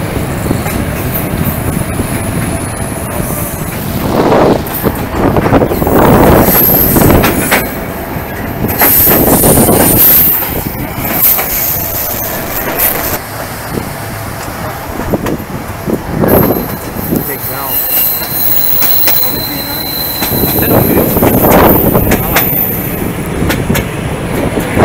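A passenger train on the Curitiba to Morretes railway in Brazil rolls along the rails, loud and close, with rumbling wagons, rhythmic clatter and recurring high wheel squeals through curves.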